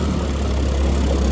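A Xinling XL150B buggy's engine runs close by in a loud, steady low drone with rough mechanical rattle, holding an even level without a clear rise.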